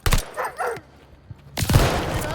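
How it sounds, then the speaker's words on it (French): A dog barks in the Call of Duty Vanguard video game, two short barks at the start followed by a louder burst of barking near the end amid game noise. "Un chien!"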